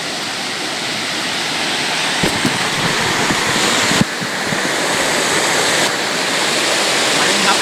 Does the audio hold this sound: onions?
no